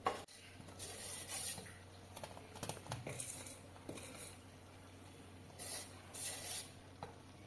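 Sweet lemon pickle simmers in a pan while a spoon stirs it now and then, giving soft bubbling patter and intermittent scraping strokes at low volume.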